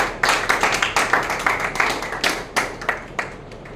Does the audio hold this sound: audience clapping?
yes